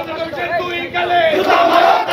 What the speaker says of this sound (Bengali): এ সময় তারা 7 জানুয়ারি নির্বাচন বর্জন এবং অসহযোগ সফল করতে নানা স্লোগান দেয়।